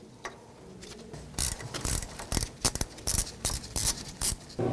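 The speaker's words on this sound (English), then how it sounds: "Now those two bolts holding the caliper on, they're 7mm Allen. So we'll remove those." Ratcheting clicks from a wrench working 7mm Allen caliper bolts loose on the front brake of a 1997-2004 Dodge Dakota, coming in a quick series of sharp metallic bursts, close and alone.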